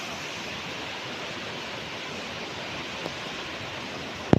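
Swollen, muddy Ganga river at a flooded ghat, its water rushing as a steady, dense broadband roar that fills the whole stretch without pause, with one faint brief knock near the end.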